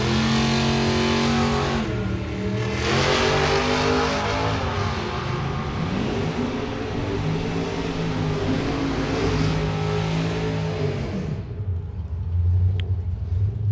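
A Mustang drag car makes a solo run at Gainesville, its loud engine roaring and climbing through rising gear sweeps for about eleven seconds before it cuts out and fades into the distance.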